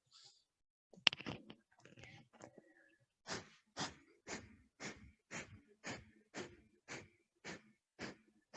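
Rapid, rhythmic breath of fire panting in a Kundalini breathing exercise, preceded by a few irregular breaths and a sharp click, then a steady series of about a dozen forceful, evenly spaced exhalations, close and clear.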